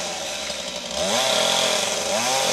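A chainsaw cuts through a tree felled by Hurricane Matthew on a house roof, its steady engine whine rising as the blade bites into the wood, loud and close, with no speech.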